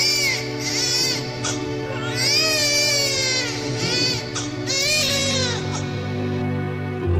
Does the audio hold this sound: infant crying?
yes